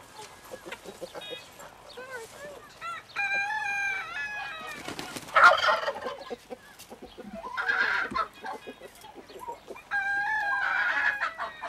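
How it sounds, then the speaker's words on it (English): Hens and a cockerel in a farmyard cluck and call in repeated bursts with some louder squawks, fairly close. A faint voice can be heard in the background at times. "Hens and a cockerel."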